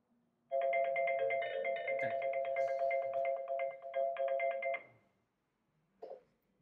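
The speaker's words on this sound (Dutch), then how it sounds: "Mijn collega Joost gaat zo aanbellen en dan ga ik jullie laten zien hoe het functioneert" A Niko intercom doorbell rings on the indoor screen, playing a loud, steady electronic chime for about four seconds. The tone repeats in quick pulses, then a brief softer blip follows after a short silence.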